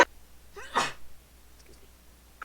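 A single sharp sneeze bursts out close by during a group conversation, brief and loud against a quiet room.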